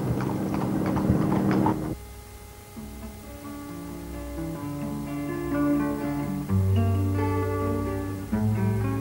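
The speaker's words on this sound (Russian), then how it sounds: "первый раз в жизни катающиеся на тройке лошадей" Hooves of troika horses pulling a ride around the Lavra, crisp clip-clopping for about two seconds before music takes over.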